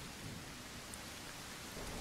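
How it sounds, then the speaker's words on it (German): Steady rain hisses as a dense, unbroken wash of noise during a thunderstorm in the survival video game Surroundead, with no distinct thunder crack, fairly faint and continuous. "Das Gewitter ist noch da, Regen, Sound ist auch noch da"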